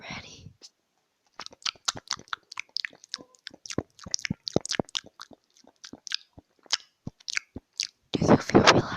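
Close, quiet ASMR mouth sounds: a steady series of wet clicks, smacks and soft crunchy bursts, sparse and rhythmic, with a brief louder rustle near the end.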